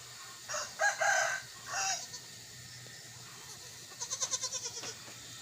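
Goats bleat at moderate distance: a couple of drawn-out calls, a pause, then a trembling, quavering bleat, with no talking.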